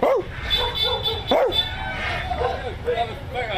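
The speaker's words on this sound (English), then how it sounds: "That is a big ass dog." A big dog barks and yips in a street scene in Bali, several loud close barks in irregular bursts over a background of crowd chatter.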